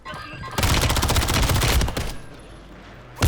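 Rapid automatic gunfire in the video game Warzone 3, a loud sustained burst of shots lasting about a second and a half, then quieter game sounds and a final short loud hit.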